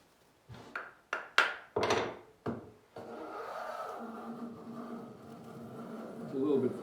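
Wood body hand plane cutting wood, a series of about six sharp rasping strokes, then a longer steady shaving sound, close and fairly loud.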